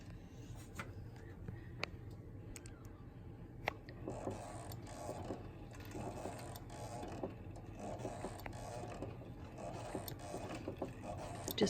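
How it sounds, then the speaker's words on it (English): A sewing machine fitted with a walking foot stitches the binding of a self-binding baby blanket, a faint steady mechanical whir with light ticking, while a person talks over it. "I'm going to sew the binding now"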